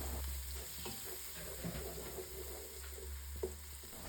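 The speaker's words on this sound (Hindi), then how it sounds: "अब इसमें डालेंगे लहसुन का पेस्ट।" Garlic paste frying in a pan with browned onions for a chicken korma, a steady low sizzle and hiss running throughout, with a few faint stirring scrapes and no talking.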